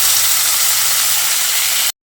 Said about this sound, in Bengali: তারপর আমটাকে দিয়ে কুমড়োর সঙ্গে আরও কিছুক্ষণ ভেজে নিচ্ছি